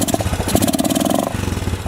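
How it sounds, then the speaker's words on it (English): A 2007 Honda ATV engine with a flooding carburetor runs loud and close, a rough, uneven chugging idle with irregular rapid pulses and a brief stumble partway through. "The carburetor sounds like it's flooding to me."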